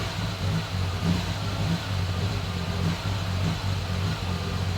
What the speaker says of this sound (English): I'm going to just give it some throttle stabs